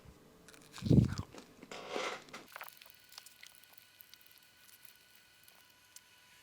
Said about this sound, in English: I apologise if you hate chewing noises